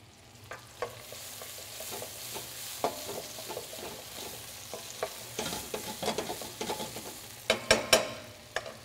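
Maine lobster sautés in a pan with a steady sizzle underneath, while scattered utensil clicks and scrapes come in irregular bursts and build to a few sharper knocks near the end, with no talking.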